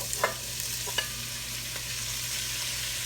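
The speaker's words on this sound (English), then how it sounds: "I got some ground meat in here. I'm going to start browning off." Ground meat browning in a pot, a steady close sizzle with a few brief scraping stirs near the start.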